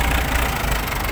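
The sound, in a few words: excavator engine running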